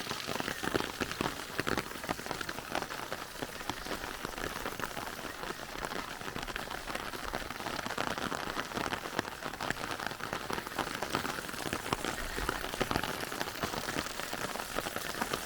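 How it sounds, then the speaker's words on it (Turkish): Dense, steady heavy rain pours from gutters and downspouts, splattering without letup, a continuous heavy wash of water with no voices. "Evet oluklardan, çörtenlerden görüyoruz yağmurun yağışını."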